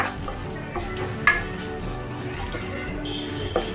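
Vermicelli fries in a pan with a steady soft sizzle and is stirred now and then, with occasional clinks of a utensil against the pan. The frying stays at a close, even level and no one speaks.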